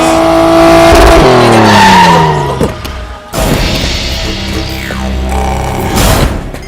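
A car in a movie scene drives up loudly, engine revving and tires squealing as it skids to a stop, followed by a short quieter pause and renewed engine noise and rustling nearby.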